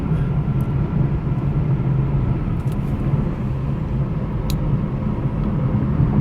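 Steady low road rumble inside a 2019 Lexus LC500h hybrid cruising on a highway, with continuous tire and wind noise at an even level and a few faint clicks, no talking.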